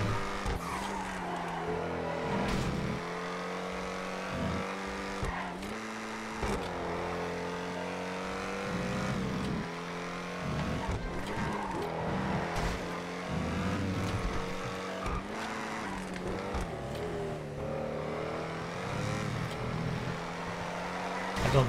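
A supercar in the GTA racing game roars with a sustained, rising and falling engine drone, gear shifts and brief tire squeals, while someone talks over it.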